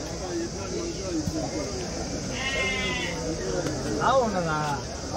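Large rams at a crowded livestock market before Bakrid, with several wavering bleats rising over a steady bustle of people talking and market noise.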